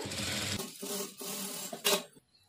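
A sewing machine stitches a work blouse's lining along an earlier stitch line in a few short, stop-start bursts of quiet mechanical whirring, then falls silent.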